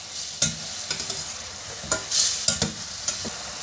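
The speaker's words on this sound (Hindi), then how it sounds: "आलू को अच्छे से इसके अंदर एकदम मिक्स करेंगे बढ़िया।" A spoon stirs potatoes into masala frying in oil, giving several scraping strokes over a steady close sizzle with no talk.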